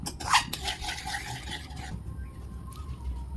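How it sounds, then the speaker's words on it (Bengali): Milk mixed with Amul milk powder being stirred in a pot, a spoon scraping and clinking against the metal in quick strokes during the first two seconds, then a quieter simmering background. "আরও ভালো করে নেড়ে নেড়ে মিশ্রণ করে নিচ্ছি।"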